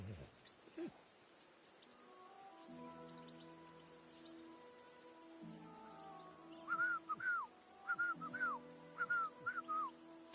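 Whistled melodic phrases from a character in the medieval role-playing game Kingdom Come: Deliverance, repeating in short bursts over a soft ambient backdrop of rain-like hiss and low droning music.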